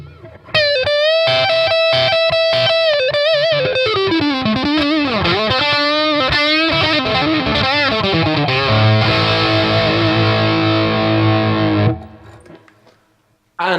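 Electric guitar played through a Boss Katana 50 amp with high-gain distortion and reverb: a sliding melodic line, then a sustained chord that rings out and cuts off.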